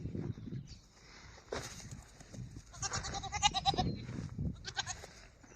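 Several goats bleat in short, quavering calls, some close and loud, others overlapping, amid low rustling and shuffling.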